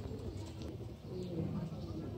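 A large breeder pigeon gives a soft, low cooing close by, brief and muted under a voice talking nearby.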